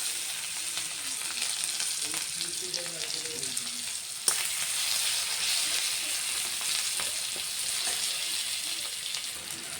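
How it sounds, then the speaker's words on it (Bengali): Chopped onions frying in oil for an egg curry, a steady close broadband sizzle that carries on evenly throughout, with a brief sharp clatter near the middle and faint stirring scrapes. "ওই তেলে পেঁয়াজ কাটাগুলো দিয়ে দিলাম।"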